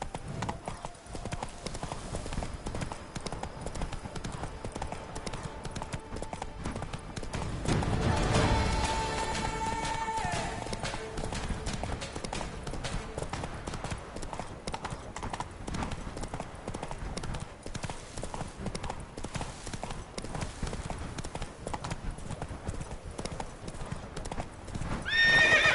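Roach, Geralt's horse in The Witcher 3 Blood and Wine, gallops with a fast continuous clatter of hooves and a whinny, loud and close against game ambience, without talk.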